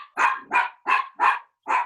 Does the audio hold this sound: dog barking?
yes